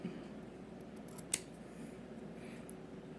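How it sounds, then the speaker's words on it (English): A few quiet snips of scissors cutting wick cotton at an angle for a rebuildable atomizer, with one sharper, louder snip standing out in an otherwise hushed room. "take my scissors here, and we're going to go ahead and chop a 45-degree angle on it"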